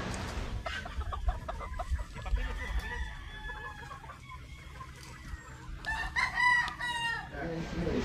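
Chickens and roosters at a game-fowl farm: repeated crowing and clucking from several birds, some near and some farther off, over a steady outdoor background with people talking faintly.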